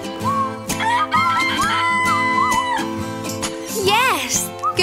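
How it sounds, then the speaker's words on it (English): Recorded rooster crowing played from a farm animal sound book, set among bright music with children's voices talking over it. "There's Mr. Rooster."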